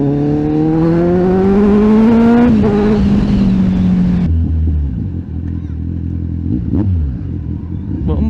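Kawasaki Ninja 1000SX motorcycle engine revving up loudly with rising pitch, then dropping back to a lower rumbling idle, close by with no talking.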